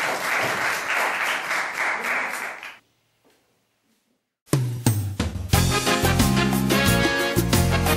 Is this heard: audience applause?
yes